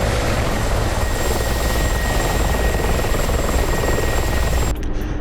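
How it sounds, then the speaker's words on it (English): A Mi-24P Hind helicopter in a combat flight video game, a loud, continuous rotor and turbine roar with a steady throbbing drone that fills the whole stretch and drops away abruptly at the very end. "right now we're in an MI-24P, so that's a big fat hind"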